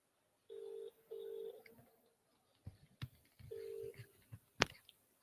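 Telephone dialing tones on a call during an energy-conservation webinar: two short steady beeps, a pause, then another beep, followed by faint clicks and a sharp click near the end, quiet and close.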